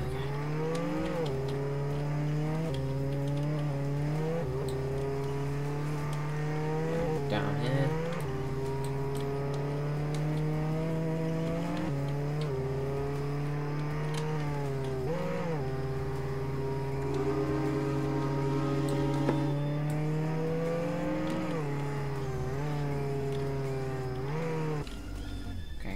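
A car accelerating in the Roblox Jailbreak video game, a loud, steady engine drone that rises and drops in pitch with repeated revving as it drives, alone without talk.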